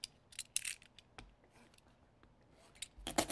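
Scissors snip through duct tape in a few short, crisp cuts, with rustling of the tape between them and a louder flurry of handling near the end.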